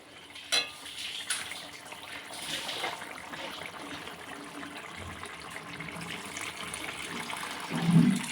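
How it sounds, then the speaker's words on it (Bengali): Water goes into a curry simmering in a pot, heard as a mid-level wet, bubbling and splashing wash with a few clanks of utensils against the pot and a louder burst near the end. "আমি তরকারিতে জল ঢেলে দিয়েছি, আর একটু অল্প করে দেব"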